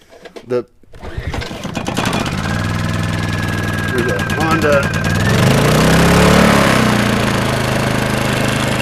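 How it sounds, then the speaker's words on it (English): A Honda generator starts with a few sharp clicks and sputters, then settles into a steady, close, humming engine drone. A voice talks over the running engine. "Honda generator. That's really surprisingly and beautifully quiet."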